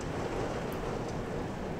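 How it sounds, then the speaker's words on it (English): Heavy rain pours down steadily as a dense, even wash of noise, close and continuous with no talk. "goodness, that's a lot of rain coming down."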